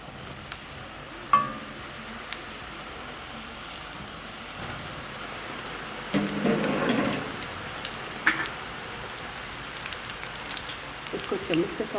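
Namak pare, fried dough snacks, dropped into hot oil and frying with a steady rain-like crackle and sizzle, swelling into a louder burst of bubbling partway through before settling back.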